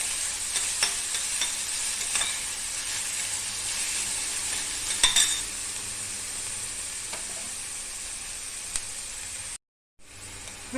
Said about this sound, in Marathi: कांदा भाजून घ्यायचा आहे कांदा भाजताना